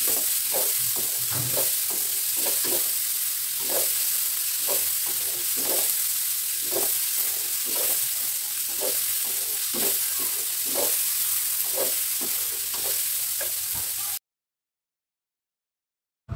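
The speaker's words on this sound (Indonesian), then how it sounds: "ini minyak yang langsung saya pakai untuk menumis ini timunnya" Cucumber being stir-fried in oil left over from frying salted fish, a steady loud sizzle with regular scraping strokes of a spatula in the pan, stopping abruptly near the end.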